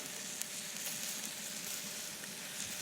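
Bacon, potatoes and onions fry in a pan on an off-grid homestead, giving a faint, even hiss of sizzling fat that holds steady throughout with no talking.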